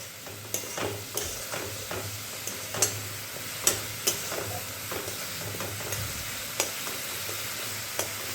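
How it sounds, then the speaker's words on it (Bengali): Ground spice paste of ginger and garlic fries in a pan while a spoon stirs it, a steady sizzle broken by repeated clicking scrapes against the metal, close and alone. "বাটা মশলাটা দিয়ে দিচ্ছি। এটা নাড়তেই থাকবো।"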